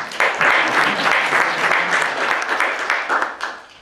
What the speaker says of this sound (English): You're applauding that we have a screen.